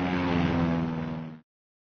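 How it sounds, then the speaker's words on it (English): Air Force and Marine Corps military planes supporting ground troops drone steadily overhead in a loud propeller rumble that holds briefly and then cuts off abruptly. "Meanwhile, overhead, Air Force and Marine Corps planes support the ground troops."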